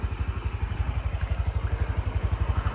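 A 2020 Honda CT-125 fuel-injected scooter idles close by, its engine thumping in a quick, even pulse that holds steady throughout.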